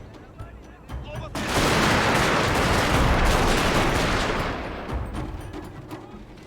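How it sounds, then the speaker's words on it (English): Sustained volley of massed gunfire from a unit opening fire in Total War: Shogun 2, a dense roaring crackle that swells after a second and holds for several seconds before tapering, with faint talk alongside. "They got the best guns. So as soon as they open fire"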